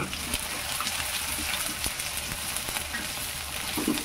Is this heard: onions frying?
yes